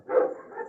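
A puppy lets out one short, soft bark, close by and brief.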